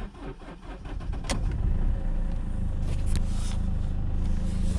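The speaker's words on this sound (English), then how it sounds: "and now we gonna start the car." A Mercedes W204 with the OM646 diesel engine starts after fault codes are cleared: a short cranking rattle settles into a steady, loud diesel idle rumble close to the microphone, with no talking.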